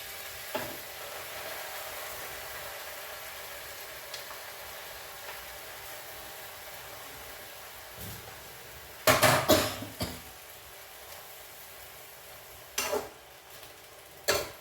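Amaranth and sorrel leaves sizzle softly in a pan with a steady low hiss, broken by a few louder clattering stirs of a spoon against the pan.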